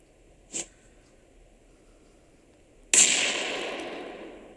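A cooked grenade in the PUBG video game explodes in one sudden loud blast, its noisy roar trailing off slowly. A single faint pop comes earlier in otherwise quiet game sound.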